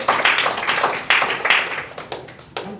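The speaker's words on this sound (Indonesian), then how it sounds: "Mari kita berikan tepuk tangan bagi Potter's House Harapan Tuhan" Applause for the Potter's House choir at a church gathering: a sparse, uneven round of individual claps from a small group, sharp and fairly close, thinning out toward the end.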